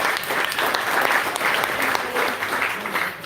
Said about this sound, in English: Give them a round of applause again for their generosity to allow us to be here tonight.